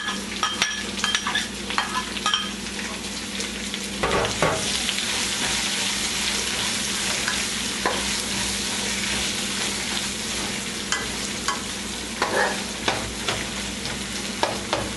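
Chopped onions sizzling and frying in a pan for eggplant bhartha, a steady close crackle with occasional stirring scrapes and clatters, no talking.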